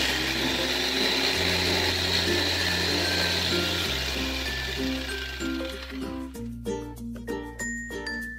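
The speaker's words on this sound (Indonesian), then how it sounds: "lanjut kita blender hingga benar-benar halus" A kitchen blender whirs steadily at close range, blending spices with water, its motor pitch shifting in steps before slowing and winding down with rattling, uneven pulses.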